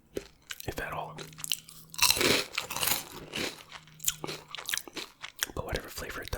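Imported Cheetos are crunched and chewed close to the microphone, with sharp crisp bites followed by wet mashing chews that come in bursts with small pauses between them.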